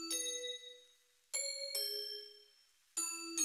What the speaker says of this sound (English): I'm gonna hit these bells with an RC20 effect to see how it sounds.